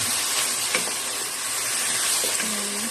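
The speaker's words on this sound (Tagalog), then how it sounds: "Ilalagay natin yung patatas at carrots para sabay sila maluto." Potatoes and carrots drop into a hot frying pan, giving a steady, close sizzle and hiss of frying throughout, with a few light stirring clicks and no talking.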